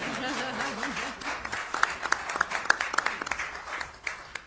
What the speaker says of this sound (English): Yeah, you can give a round of applause.